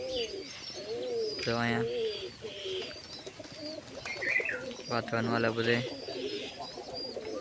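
Pigeons coo from a home loft in a few low, throaty bursts mixed with chirps, while a person talks nearby over them.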